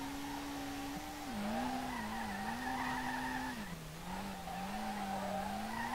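A car drifting in the SLRR racing game, its tires squealing in a long, wavering screech over a steady engine whine, loud and continuous for several seconds.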